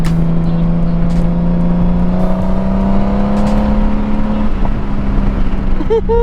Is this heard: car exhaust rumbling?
yes